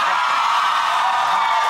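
A television talk show studio audience cheers and screams loudly, a dense, sustained wash of crowd noise that holds steady from start to finish without any single voice standing out.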